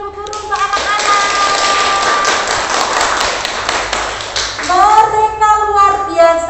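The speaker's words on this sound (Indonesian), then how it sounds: "Coba berikan tepuk tangan suster dan ibu guru untuk anak-anak." Nuns and teachers applauding young schoolchildren at a Lent opening service, a dense run of clapping that builds and holds for several seconds, with children's voices and adult talk rising over it as it fades.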